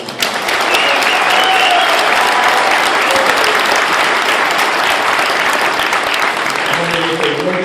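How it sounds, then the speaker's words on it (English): Audience in a hall applauding an inductee at a sports hall of fame ceremony, sustained loud clapping from a crowd lasting several seconds. "Let's give Dusty a round of applause."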